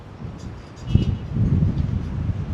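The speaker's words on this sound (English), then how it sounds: "Oh my, this is windy now." Gusty wind outdoors on a Toronto street, rumbling and buffeting the microphone, quieter at first and then swelling into stronger low gusts.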